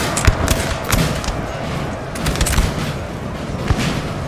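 Musket volleys crackle in a Napoleon: Total War multiplayer battle at Talavera, a dense run of sharp cracks and distant booms scattered across the clip amid a constant battlefield roar.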